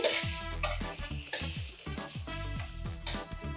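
Ginger and garlic paste sizzles in a pan while a spoon scrapes and stirs in quick repeated strokes, close and clear with no talking.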